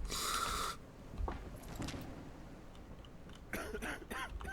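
An infected person coughs in Quarantine Zone: The Last Check, a few quiet, brief coughs and a throat-clearing sound amid soft background noise, with no speech.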